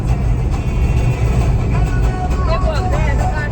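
A car driving into the Kashedi tunnel, a loud, steady low engine and road rumble that fills the space evenly; a voice talks over it throughout.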